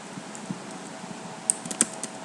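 A password being typed on a computer keyboard, a handful of light, quick key clicks at uneven spacing over a faint steady hum, close and quiet.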